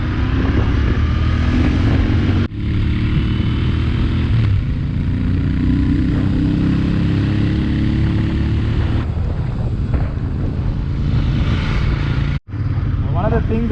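A Royal Enfield Interceptor 650 motorcycle being ridden, its engine droning steadily under heavy wind buffeting on the microphone, with a rider talking throughout and two brief dropouts.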